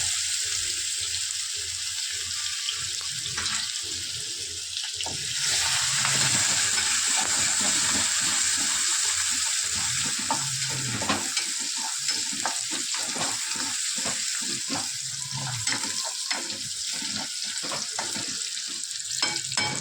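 Curry leaves and garlic-chili-ginger paste fry in oil for dal palak, a steady close sizzle with stirring scrapes throughout and a louder burst of crackling partway through, no voices.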